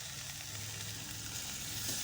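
Fish frying in a pan, partway fried, steadily sizzling as hot water is poured in, a continuous broad hiss with a low bubbling undertone, close and even throughout.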